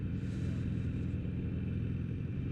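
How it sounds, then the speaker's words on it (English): A car runs without headlights along a cloudy mountain road near Bent Creek Gap, a steady low engine rumble and tire drone close by throughout, with no voices. "Here comes a car with no headlights on."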